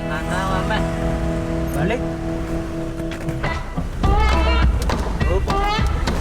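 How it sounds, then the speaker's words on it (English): Congested traffic on a road in Lombok, Indonesia, with many cars beeping, heard as steady horn tones and engine rumble, loud and close, with people talking over it. "We turned around and waded through the sea of beeping cars until we found some open road once again."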